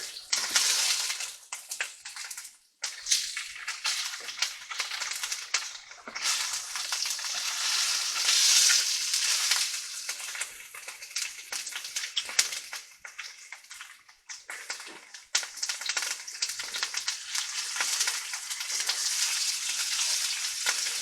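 Tofu slices marinated in soy and garlic frying in a skillet, a steady bright hiss and crackle of sizzling oil running throughout with brief dips in intensity.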